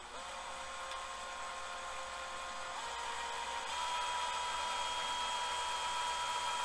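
Electric drill spinning to twist antenna wire for a half-wave end-fed ham radio antenna, a steady, moderately loud high whine that runs throughout and rises slightly in pitch and level partway through.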